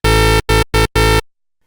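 A buzzy tone from a Roland System 500 synthesizer driven by a step sequencer plays four stepped notes in a quick pattern, loud and bright, then stops abruptly into silence.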